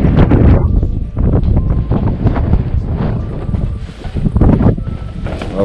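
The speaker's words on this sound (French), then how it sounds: "Il y a trop de vent ici." Strong wind buffets the microphone at an abandoned water park, a loud continuous rumbling roar with gusty surges lasting throughout.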